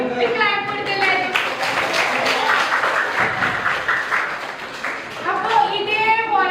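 Children in a classroom burst into brief group clapping, with an adult's voice speaking before and after the clapping.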